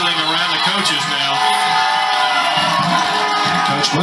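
Kannapolis home fans at a high school football playoff game roar and cheer as a dense, sustained crowd with whoops and yells mixed in, loud and continuous throughout.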